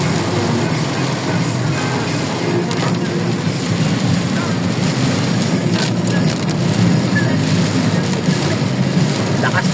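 Heavy rain pouring in Bocaue during a storm, a loud, dense, continuous hiss and patter on surfaces nearby, steady throughout with faint sounds of people in the background.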